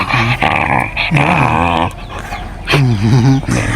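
A dog close by growls and whines in drawn-out, wavering bursts, loud with brief pauses between.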